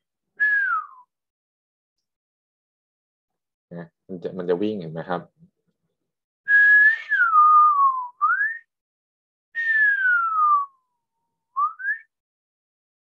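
A man whistles during an acoustics lecture on measurement and noise, producing a few clear sliding whistled notes that rise and fall, with a short burst of his speech between them.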